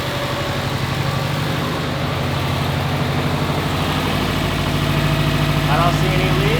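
A 2006 Subaru WRX with a newly installed bigger turbo idles steadily close by, a low, even rumbling pulse that holds at constant loudness throughout.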